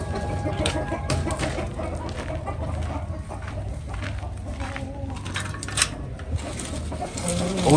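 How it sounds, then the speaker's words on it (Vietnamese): Hens clucking inside a garden coop where several are sitting on eggs, a busy layer of soft clucks and bird calls over steady low background noise throughout, fairly close. "ba bạn gà mái đang ấp trứng trong này luôn"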